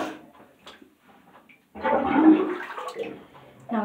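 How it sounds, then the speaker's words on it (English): Water draining from a bathtub after face washing at home, a gurgling, rushing drain that starts abruptly and runs steadily, fairly close, after a quiet stretch with faint sounds. "Now we have to let that all drain."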